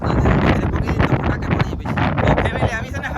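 Strong sea wind buffets a fishing boat, a loud, gusting roar that fills the whole stretch without a break.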